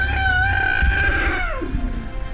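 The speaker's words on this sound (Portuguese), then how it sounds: "as pessoas ouvem o guincho de uma jovem elefanta." A young female elephant squeals after a lioness attack in the wild. It is one loud, drawn-out, shrill cry whose pitch wavers and then slides downward near the end.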